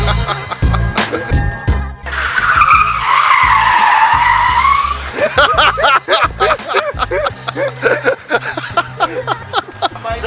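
A car skids loudly through a handbrake turn, a sustained rising-and-falling tire screech lasting a few seconds, followed by engine noise and excited voices talking and laughing close by.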